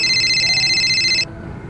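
A telephone rings during a call, a steady electronic double-tone trill that runs for just over a second before cutting off, heard alone and fairly loud with no talk over it.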